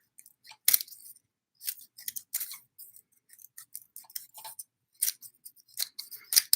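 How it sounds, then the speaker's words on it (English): Crisp, repeated snips of scissors cutting through stiff toothbrush bristles onto paper, in irregular bursts with short pauses between, close and fairly quiet. "Cut these bristles off."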